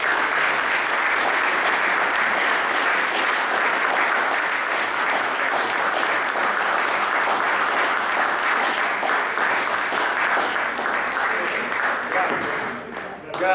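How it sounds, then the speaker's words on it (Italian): Sustained audience applause after a lecture on seismic zones in Modena, a broad even wash of many hands clapping at steady loudness for over twelve seconds before tapering slightly at the end. "Io penso che un applauso."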